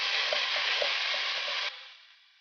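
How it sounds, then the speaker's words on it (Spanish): Onion frying in a sautéed seasoning base for a pot roast, a steady broad sizzle with faint stirring taps that drops off abruptly near the end. "Sabemos que la cebolla tiene que cocer en el aderezo, tornarse un poco brillante"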